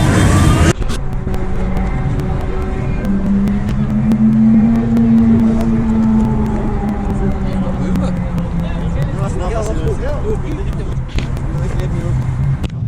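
Loud, continuous roar of motorcycle engines echoing in a tunnel during a Paris biker protest, with revving and shouting voices mixed into the din.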